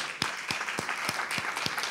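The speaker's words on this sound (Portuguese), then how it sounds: "uma salva de palmas para elas" Audience at a sustainable development event on water in the metropolis giving a short round of applause for a translation team, a few distinct claps at a steady rhythm over a soft wash of clapping, fairly faint and distant.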